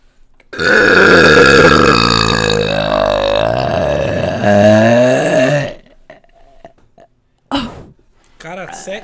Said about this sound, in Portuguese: quase 7 segundos arrotando